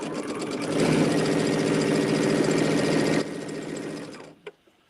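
A sewing machine stitches fabric strips together for an Alice in Wonderland themed project, running in a steady loud whir for about three seconds, then slowing and stopping with a couple of faint clicks.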